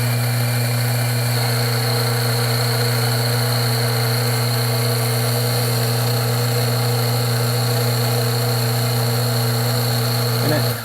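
A Mahlkönig GH1 coffee grinder grinds coffee beans, a loud, steady motor whine with a strong tonal hum that runs unbroken and cuts off at the very end.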